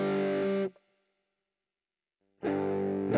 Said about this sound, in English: To me, this already sounds a lot more like a traditional distortion rather than a fuzz.